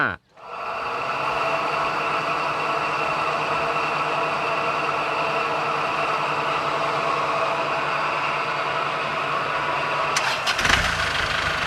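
A drag-tuned car engine with an F5 head cranks and catches right at the start, then settles into a steady, loud idle hum that continues throughout, with a brief disturbance near the end.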